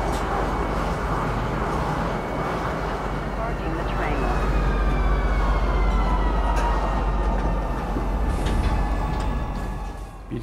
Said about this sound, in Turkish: trenle gitmeniz gerekiyor